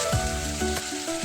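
Adobo sa gata sizzles in a pan as oyster sauce goes in, a close, steady frying crackle over a short moment with faint background tones.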